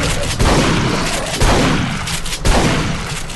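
Heavy gunfire in Duke Nukem Forever, three sharp impact bursts roughly a second apart over a continuous loud barrage of shots, close and dense.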